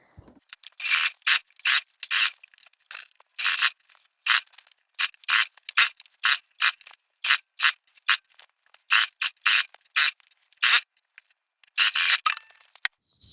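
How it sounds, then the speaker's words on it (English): Bursts of home sewing machine stitching along the seam of a crescent moon bag with the gusset on top, short close-up runs of rapid mechanical clatter separated by brief pauses, no talking. "we do want to sew with the gusset on top in case we need to make any extra snips into it"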